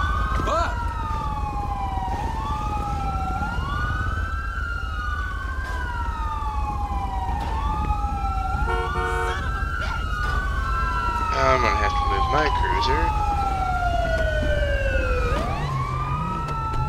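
Siren from an ambulance in the LSPDFR police mod video game on a downtown patrol, wailing and sweeping up and down continuously and loudly over a low engine rumble, with a few short electronic yelp bursts midway.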